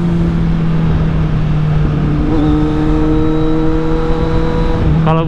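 Kawasaki Z800 motorcycle fitted with an Akrapovic exhaust, speeding along a road: a loud, steady engine drone with rising revs and gear-change tones, ending in a sharp rev burst.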